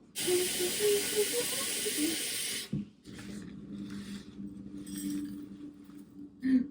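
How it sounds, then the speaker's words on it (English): Water heating in a saucepan on a kitchen stove gives a loud, steady hiss for a few seconds. The hiss cuts off abruptly, and softer clinks and bubbling sounds follow. "I have to heat up water in a saucepan because I broke my kettle"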